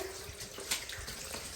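Water running naturally down from above inside a temple cave makes a faint, steady trickle and splash, with a single brighter drip-like burst partway through.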